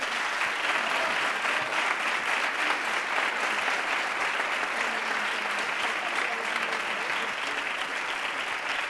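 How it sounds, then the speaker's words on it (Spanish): Audience in a theatre applauds the band members after a Santa Cecilia tribute concert by a municipal music association, dense continuous clapping holding at an even, full level from start to finish with faint crowd murmur beneath. "así que les pido otro aplauso para ellos"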